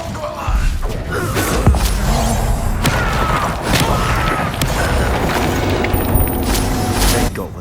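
Incendio fire spell cast in Hogwarts Legacy, with several loud blasts and thumps bursting through dense, rumbling combat noise, close and forceful throughout.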